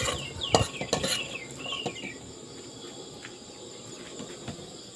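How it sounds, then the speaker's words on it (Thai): Chilies, garlic and shallots are dry-roasted in a pan for a bamboo shoot salad, with a few sharp metal clanks and stirring scrapes early on that fade into quieter shuffling, while insects chirp steadily in the background. "เตรียมพริกครับ พริกกระเทียมหอมแดงครับ คั่วใส่กระทะเลยครับ"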